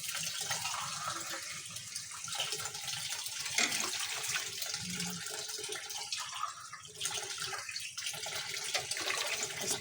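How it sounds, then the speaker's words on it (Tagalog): Water running steadily into a cooking pot holding sautéed garlic, onion, sardines and vegetables, a continuous close splashing pour with no talk. "Lagyan na natin ng tubig para kumulo."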